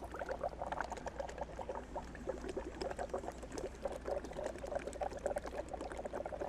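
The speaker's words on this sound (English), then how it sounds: "just put the soap in and put go? the soap in and start blowing bubbles" Bubbles blown through flexible straws into cups of soapy water make a steady bubbling gurgle with rapid popping, continuous and close for several seconds, with no talking.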